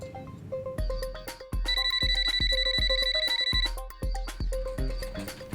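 Telephone ringing with a bright, electronic multi-tone pattern, loud and close, in rapid repeated bursts that accelerate into a busy, bell-like melody.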